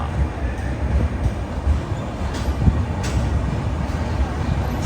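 A train leaving Goa's Madgaon station rumbles steadily with a broad, continuous roar and faint rattling, nearby and fairly loud, with no clear talk over it.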